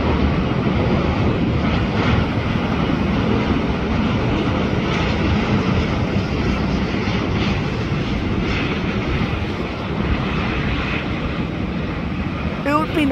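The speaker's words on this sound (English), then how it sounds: "Here is StarLux A350." StarLux Airbus A350 airliner at LAX, a loud, steady jet engine roar close by, continuing across the clip with light wind buffeting on the microphone and someone speaking briefly.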